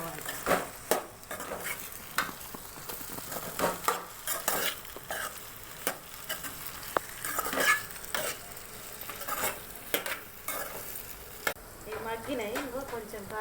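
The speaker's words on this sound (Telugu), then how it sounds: "ఇప్పుడు కలుపుకోవాలి." A spoon scraping and stirring curry in a frying pan, with irregular metallic clinks and scrapes over a soft sizzle, close and fairly loud.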